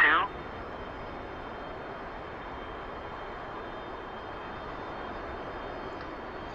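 A MiG-29 jet taxiing in a flight simulator game gives a steady, even engine roar that holds at one level throughout after a brief louder onset, with no talk over it.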